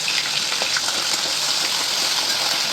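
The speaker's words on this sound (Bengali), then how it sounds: "অল্প নুন দিয়ে এটা ভাজছি।" Salted eggplant slices sizzle in hot oil in a pan, a constant loud crackling fry with faint pops, heard up close with no voices.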